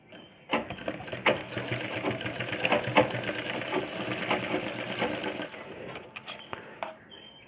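Sewing machine stitching a blouse, a fast, steady mechanical rattle that starts abruptly, runs for about five seconds and stops, followed by a few light clicks.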